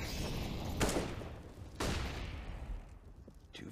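Gunfire from AK rifles in a professional CS:GO match on the Train map: two loud, sharp bursts about a second apart, followed by fainter shots near the end over steady game ambience.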